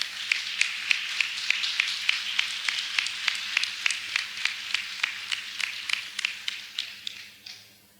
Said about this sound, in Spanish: Un aplauso para las compañeras